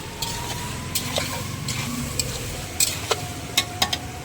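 Mixed vegetables with mustard paste stir-frying in a pan, a steady low sizzle with scraping stirs and a few sharp utensil clicks against the metal toward the end.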